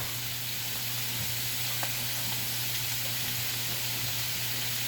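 Roasted garlic hits a hot pan and sizzles in a steady, close hiss that holds evenly throughout, with a faint low hum underneath and no voices.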